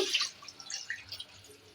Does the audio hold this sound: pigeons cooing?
no